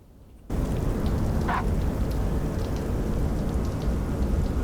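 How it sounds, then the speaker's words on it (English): Steady rain from Microsoft Flight Simulator 2024 hisses loudly after a quiet opening half second, a dense, constant downpour with no voices over it. "Although the rain is slowed down a lot."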